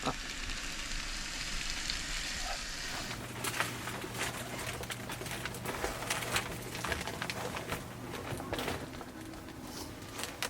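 Food frying over high heat inside a camper van, a steady close crackling sizzle that grows busier and louder partway through and then continues evenly.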